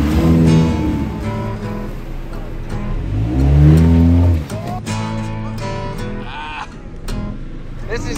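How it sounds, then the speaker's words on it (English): A Jeep Compass drives through a sandy loam washout. The engine is loud and close and surges as the vehicle pushes through the dip, and voices can be heard over it. "It dips down about 6 feet and pops back up, and it'll send our vehicles off camber as we try to exit the washout."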